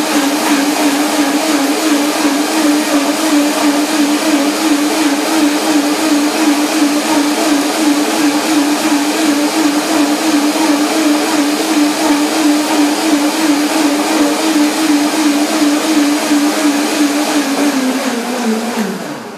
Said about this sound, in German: Nur der Mixer sonst fehlt noch.